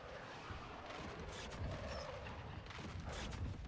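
A mortar strike in a first-person shooter, quiet muffled explosive rumbles and crackling blasts rolling continuously at a distance, low in level, with no speech.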